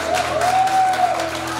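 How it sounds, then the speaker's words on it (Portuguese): Audience clapping at a women's anniversary celebration event, brisk and continuous through the short stretch, with a faint tone ringing over it. "aplaudindo tudo, quanto aplauso"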